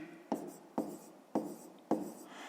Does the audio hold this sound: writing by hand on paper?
yes